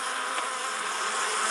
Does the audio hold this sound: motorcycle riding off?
no